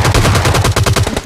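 Rapid automatic gunfire from the battle royale video game PUBG Lite, a loud, steady burst of closely spaced shots lasting just over a second.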